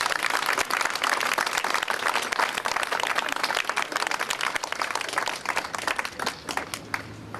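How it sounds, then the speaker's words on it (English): A crowd applauding at the 2001 ribbon cutting of the Apollo Theatre on Jefferson Avenue, dense, steady clapping from many hands held at an even level for several seconds before tapering slightly. "Let's give them a round of applause"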